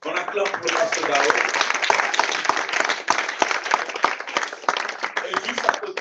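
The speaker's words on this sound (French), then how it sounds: "On acclame pour le pasteur Dao." A church congregation applauds for Pastor Dao: dense, steady clapping from a crowd that runs throughout, with voices and cheering mixed in.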